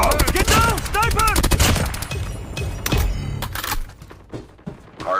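Shooter video game combat: a quick run of rifle and sniper shots, then scattered heavier booms and thuds, with game voice callouts over the opening shots.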